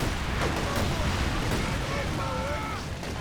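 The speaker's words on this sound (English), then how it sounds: "Artillery barrage onto that MG now." An artillery barrage in the World War II strategy game Company of Heroes 2 rumbles and booms continuously under a dense wash of battle noise, with a commentator talking over it.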